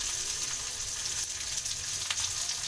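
Whole spices, including cinnamon, clove, cardamom, bay leaf and fennel, sauté with onion in hot oil for a vegetable kurma, giving a continuous close sizzle with occasional stirring scrapes.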